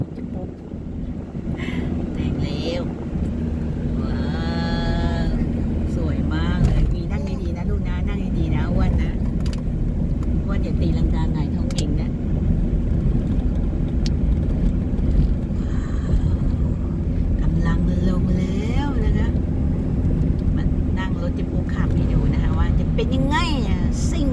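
A car heads downhill on a mountain road near Mae Sot in Tak province and pulls out to overtake a van, with a steady engine and road rumble and wind buffeting throughout while people talk inside.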